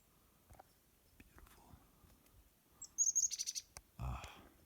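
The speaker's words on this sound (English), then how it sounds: "the sounds of birds, man, it's like good for your ears" Small birds outdoors chirp in a quick cluster of bright tweets, fairly close, with soft rustles and quiet handling noises before and a louder thump at the end.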